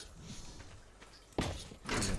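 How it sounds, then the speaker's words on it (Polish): A door placed into a base structure in ARK: Survival Evolved, heard as two sharp thudding clunks a half second apart over faint background noise. "Zakładamy drzwi."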